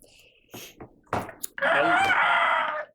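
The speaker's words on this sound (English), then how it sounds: "You hear the crow as Riddles pops on the house." A rooster crows loudly and close, a sustained call lasting over a second, preceded by a few short knocks and thumps within a tabletop role-play session set on a death-defying island.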